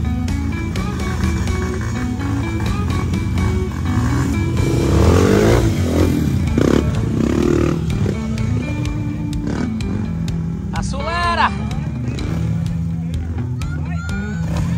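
Enduro motorcycle engine revving loudly and continuously on a rough hard enduro mountain trail during a race event, with crowd voices shouting over the sustained engine roar.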